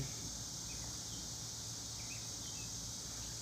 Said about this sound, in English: Can you guys hear the cicadas or whatever they're called?